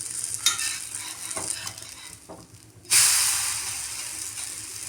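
A ragi dosa, a finger millet pancake, sizzles on a pan after being flipped. A steady crackle runs under soft scrapes, then a loud burst of hissing sizzle swells up and slowly fades, with no talking.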